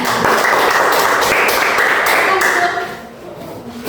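A class of students applauds after a group presentation in a science lesson, a dense, close burst of hand clapping mixed with chatter that fades after a few seconds.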